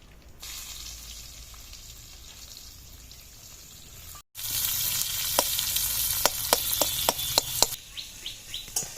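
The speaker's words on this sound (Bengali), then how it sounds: "পেঁয়াজটা ভাজা হয়ে গেছে" Chopped onion fries in hot oil with dried chilli and five-spice, a soft steady sizzle that cuts out briefly, then returns louder and brighter with sharp clinks of stirring and faint bird chirps nearby.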